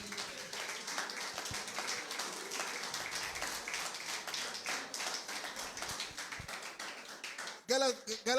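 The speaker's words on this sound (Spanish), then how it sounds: "Dale un aplauso al Señor." Church congregation clapping along together, a steady run of sharp, close hand claps with voices mixed in throughout, ending with a brief burst of louder sound.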